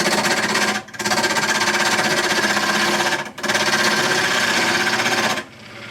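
A machine runs at an adjusted speed while a wooden washing dolly is renovated, a loud, steady rapid chatter that breaks off twice and then winds down near the end.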